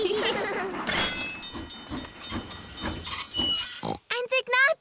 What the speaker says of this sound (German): Möchtest du auch einmal den Zug steuern?